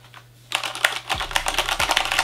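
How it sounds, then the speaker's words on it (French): Rapid mechanical key presses on a Corsair K70 RGB keyboard with Cherry MX Red linear switches, a dense run of clicky clacks starting abruptly after a brief quiet moment, close and fairly loud with a low hum beneath. "tout simplement ça veut dire que c'est un clavier mécanique"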